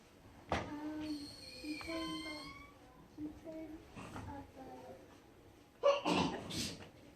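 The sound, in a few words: sneeze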